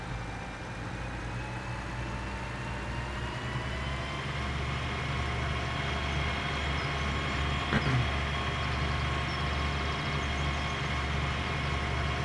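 A tractor drives in Farming Simulator 2013, its engine giving a steady, droning hum with a low rumble and slowly rising tones, plus a brief knock partway through.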